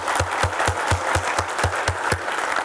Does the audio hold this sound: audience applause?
yes